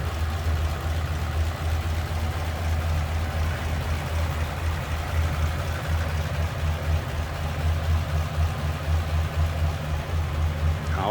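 A 1940 Ford Standard Coupe's stock flathead V8 with a 6-volt system idles smoothly and steadily, a close, even low rumble running unbroken throughout.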